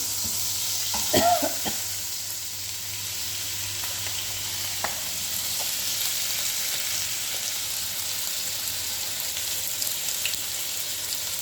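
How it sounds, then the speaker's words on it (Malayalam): Onions, shallots, curry masala and green chillies fry in butter in a pan, making a continuous close sizzle with a few sharp clinks and stirring knocks early on, no voices. "ബട്ടർ പെട്ടെന്ന് കരിയായതിൻ്റെ കൂടെ തന്നെ നമുക്ക് ഇതിട്ടെടുത്ത് ഉള്ളിയും സവാളയും കറിമസാലയും പച്ചമുളകും എല്ലാം കൂടെ ഞാൻ അതിലേക്കൊന്ന് ആഡ് ചെയ്ത് കൊടുത്തിട്ടുണ്ട്"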